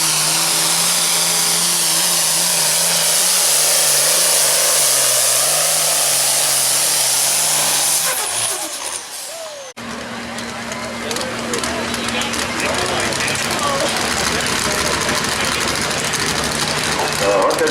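A pulling tractor's engine roars at a county fair tractor pull in Rush City, Minnesota, a loud sustained drone shifting in pitch, then a sudden change to a rougher, broader roar, with an announcer talking over it.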